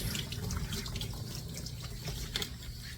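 Running water pours and splashes steadily as a dog is rinsed around the back of the head during a grooming bath, a continuous close gush with faint dripping and no speech.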